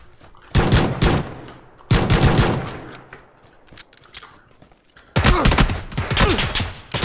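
Bursts of video game gunfire crack out in three loud, dense volleys separated by short quieter gaps, with a player speaking faintly between them.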